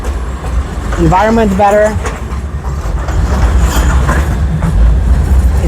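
A Sofia public-transport tram rolls along with a low, continuous rumble and faint rail clatter, while a person speaks briefly over it.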